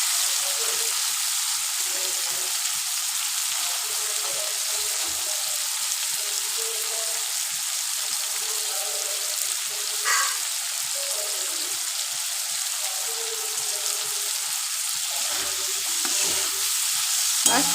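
Prawns fry in a hot pan for a prawn and potato curry, an even, bright sizzle running throughout with occasional soft stirring taps.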